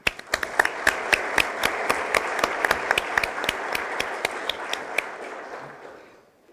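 A school award assembly audience applauds students with a steady run of sharp, distinct claps, fairly close and alone, thinning out and fading over the last second.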